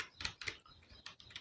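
Quiet keystrokes on a computer keyboard while entering accounting data in Tally Prime, a quick run of about six separate taps in an uneven rhythm.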